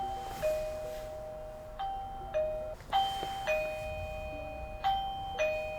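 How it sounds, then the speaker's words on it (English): A doorbell chime plays through the speaker of a Eufy E330 video smart lock, repeating two-tone ding-dong notes about every second, clear and close with no talking. "So when someone rings the doorbell, you're kind of just hearing the speaker."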